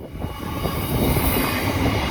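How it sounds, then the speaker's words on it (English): A train rolls past a railway crossing in the countryside, a steady, loud rumble of wheels and carriages that builds slightly and holds throughout, with no talk over it. "got a train coming"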